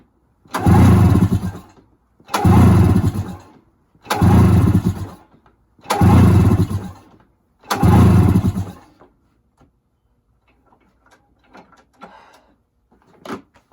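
A straight-piped snowmobile engine is cranked five times in even, very loud bursts, each a harsh blat lasting about a second, followed by near silence and faint scattered clicks.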